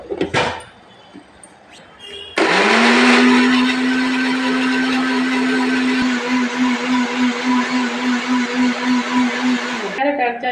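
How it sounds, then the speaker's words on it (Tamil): A mixer grinder blending chopped carrots starts abruptly and runs loud and steady for about eight seconds with a churning, pulsing whine, then cuts off. "2 கேரட்டு நறுக்கி மிக்சியில் போட்டு அடிச்சுடுவோம்."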